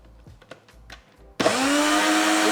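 A blender starts abruptly partway through and runs loud and steady, blending a plant-based protein drink, after a few quiet clicks and small handling sounds.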